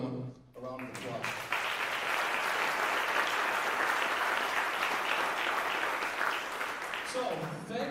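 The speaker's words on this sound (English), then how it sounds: "So if you would, give them a round of applause." An outdoor audience at a symphony orchestra concert in the park breaks into sustained applause, a dense wash of clapping lasting several seconds after a speaker's voice, then tapering off.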